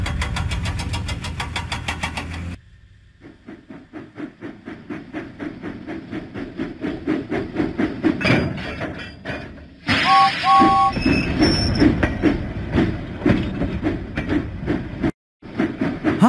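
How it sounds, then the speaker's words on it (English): Steam engine in a Thomas and Friends video game chugs steadily with rhythmic huffing and puffing, loud and close, broken by a short pause and a brief tonal signal midway. "Huffing and puffing, James set out for the diesel works."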